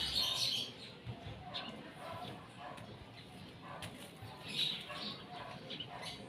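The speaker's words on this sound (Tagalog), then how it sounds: "Yan yung ibon. Naghihintay na yan ng pagkain." A bird waiting to be fed outdoors under a clear sky, giving two brief, faint, high chirps far apart against quiet ambient background noise.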